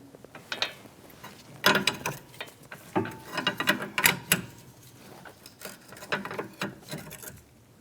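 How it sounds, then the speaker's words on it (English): Ratchet wrench clicking in short irregular bursts as an 18mm nut on a Jeep Renegade rear stabilizer link is broken free, with a Torx bit holding the stud; sharp metallic clicks, close and moderately loud, no talking. "So the link on the bottom is the same as the top, 18mm nut, and it's going to be a T30 Torx. We're going to break that free."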